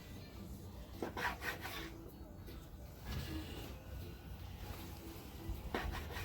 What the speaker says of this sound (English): So I'm going to slice it kind of thin here.